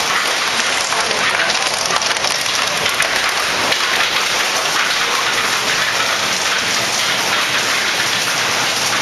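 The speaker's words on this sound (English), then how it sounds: "we won't hear it because of the hail." Hail storm pounding on a house, a dense, loud, continuous drumming roar of hailstones that holds steady throughout with no pauses.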